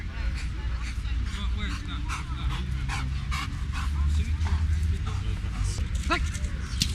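A dog pants heavily and yelps in short, excited bursts during a bite-work attack test in a working-dog trial, close and loud over a steady low rumble of outdoor noise, with people talking nearby.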